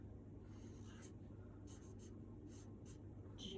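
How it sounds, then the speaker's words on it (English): A marker or pen writes on a paper chart in a classroom, with faint, soft scratchy strokes coming in short bursts over a steady low background hum. "So I'm going to write her name down on our chart so we can remember"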